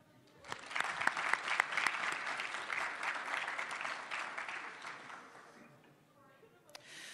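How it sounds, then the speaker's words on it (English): Enthusiastic audience applause swells into a dense, sustained clapping, then gradually fades out, with a few scattered claps at the end. "deserve a significant round of applause and appreciation"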